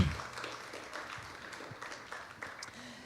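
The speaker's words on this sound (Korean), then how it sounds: "Let's give them a hand." A church congregation applauds its worship team at a special service, a faint, distant patter of clapping that fades over a few seconds.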